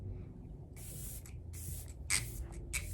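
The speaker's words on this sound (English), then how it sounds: "I'm going to just put on some setting spray real fast." Several short hissing sprays of makeup setting spray from a pump bottle onto a face, close up, in quick bursts with brief pauses, in a quiet room.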